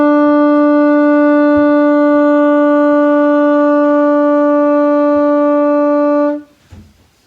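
A saxophone holds one long, steady, even warm-up tone for about six seconds with rich overtones, then cuts off, leaving brief breath and faint handling noise. Loud and close, with no talking.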